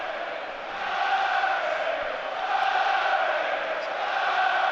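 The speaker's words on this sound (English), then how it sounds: "Town fans getting behind the team again" Grimsby Town supporters chanting and cheering in a stadium during an FA Cup football match against Brighton & Hove Albion, a sustained roar from a large crowd heard at a distance and swelling in waves.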